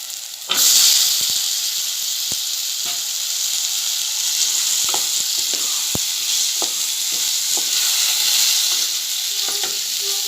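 Chopped potatoes hitting hot oil in a pan, a sudden loud sizzle that settles into steady close frying, with occasional light clicks of stirring.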